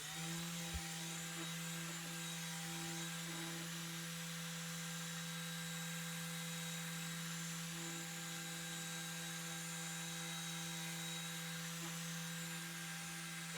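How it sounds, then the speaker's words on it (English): A Torque 10X polisher fitted with a Euro 50/50 cutting pad runs steadily with a constant droning motor whine and hum, unbroken and moderately faint throughout, with no talking. "I'm going to go back to the Torque 10X and this time apply a real pad"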